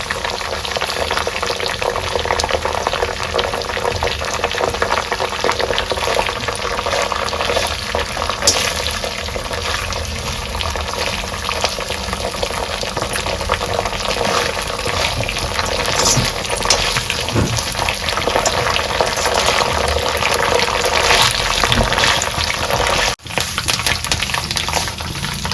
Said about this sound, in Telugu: కరివేపాకు మొత్తము ఇట్లా వేపుకోవాలన్నమాట